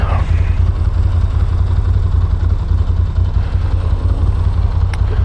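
An old Moto Guzzi motorcycle engine runs steadily and close, a loud continuous low rumble with mechanical clatter that holds an even level throughout.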